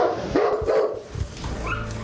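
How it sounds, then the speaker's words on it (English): Dogs at a neighbouring property bark and yip in quick, uneven bursts at moderate distance, with some whimpering between barks. "For Colin, it wasn't just the noise of the dogs that was clearly a problem."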